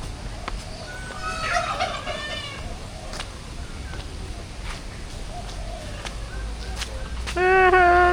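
A turkey gobbles in a quick rippling burst among the birds at KL Bird Park, followed by a louder, closer bird call at the end over a soft background hum.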